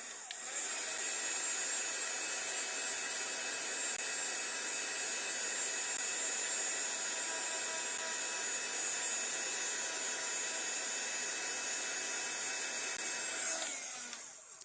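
A heat tool blows with a steady, whooshing electric drone as it warms metal embellishments for a Finnabair gel project. The tone is constant and close for about fourteen seconds, then cuts off, with no speech.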